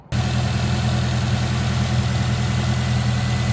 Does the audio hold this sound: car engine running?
yes